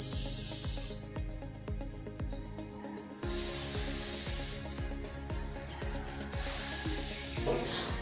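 A human voice imitates a snake by hissing the letter S, three long sustained hisses separated by pauses, set over a quiet, gentle rhythmic backing track.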